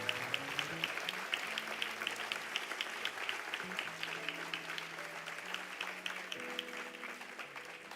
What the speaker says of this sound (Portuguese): A igreja pode aplaudir em nome do Senhor Jesus